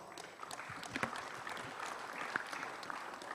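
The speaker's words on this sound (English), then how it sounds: "let's give them big round of applause." Light, scattered clapping from a small forum audience, fairly quiet and uneven, with a few sharper claps standing out.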